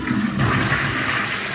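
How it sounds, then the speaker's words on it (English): A wall-hung toilet worked by a push button flushes with a loud, close gush of rushing water that runs steadily for the whole moment, with no talking. "which then flushes the toilet."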